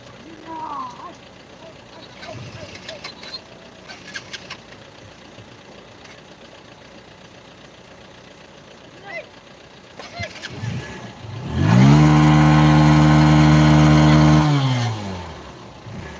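A stalled car engine turns over and runs loudly for a few seconds before cutting off, after quiet outdoor background with scattered faint knocks, in a flooded area after heavy rain.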